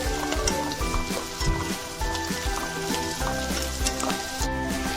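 Capsicum sizzling in a pan for gobi manchurian, a dense crackling fry with recurring scrapes and knocks of a spoon stirring, close and steady, with no talk.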